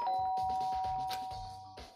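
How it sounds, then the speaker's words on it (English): A doorbell chimes in the Danganronpa: Trigger Happy Havoc video game, a clear electronic tone held for most of a second and fading over soft game background sounds. "I press the doorbell."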